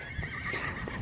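A white horse neighs loudly and close by, one drawn-out whinny standing out over steady outdoor background noise, with faint hoof clip-clops around it.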